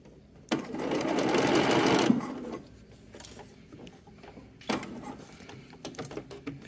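A home sewing machine stitches baby clothing in a fast, whirring burst of about one and a half seconds, then falls quiet, followed by a shorter run and faint clicks of the needle being turned.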